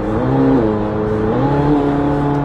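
A McLaren 720S engine runs steady and loud with a smooth, tonal drone that dips and rises slightly in pitch as the throttle is pressed, without any big revving surge.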